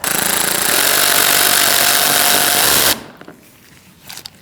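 A loud power tool whirs steadily for about three seconds while it tightens a bolt on a 2016-2019 Chevrolet Cruze front bumper cover, then cuts off abruptly, leaving faint handling noises.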